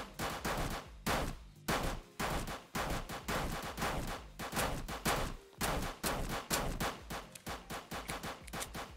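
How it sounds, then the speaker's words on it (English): Video-game gunfire from Minigame Game, with rapid repeated shots in bursts and short pauses between, loud and close, with no talk over it. "I missed like 4 shots in a row."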